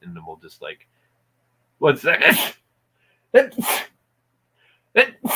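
A single sneeze bursts out in a casual indoor conversation, with people chatting before and after it.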